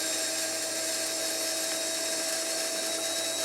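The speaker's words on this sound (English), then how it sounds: "Listen to that motor!" A small motor running during testing, a steady high-pitched whine with a continuous even buzz and no pauses, close and constant throughout.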